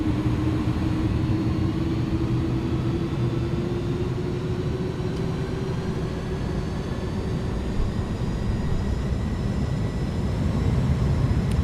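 iniBuilds A310 airliner engines at takeoff power in Microsoft Flight Simulator, a steady, loud, even roar with a faint rising whine held throughout.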